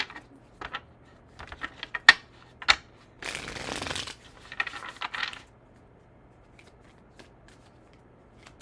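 A deck of tarot cards is shuffled by hand in a quiet room: a run of riffling, snapping flicks with a dense burst of shuffling in the middle, then a few soft taps as the cards settle.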